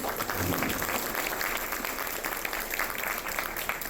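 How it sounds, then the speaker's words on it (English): An audience at a county commissioner candidate debate in Bradenton gives a round of applause, a steady, moderately loud wash of many hands clapping that carries evenly to the end. "Please give them a round of applause."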